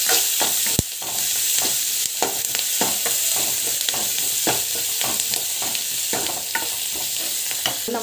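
Onions with asafoetida sautéing in a pan give a loud, steady sizzle, broken throughout by the quick scrape and clack of a spoon stirring.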